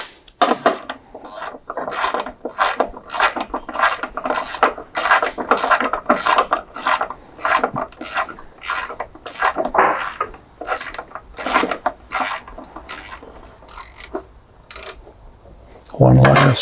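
A hand ratchet tightens bolts while a Calmer upgrade kit goes onto a John Deere 40 or 90 series corn head, a long run of close, loud, fast clicking strokes with brief pauses.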